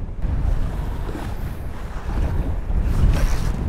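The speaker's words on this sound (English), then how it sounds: "because it's starting to get pretty windy" Wind gusts across an open lake during walleye fishing, a steady low rumbling buffet against the microphone that swells louder toward the end, with no talking.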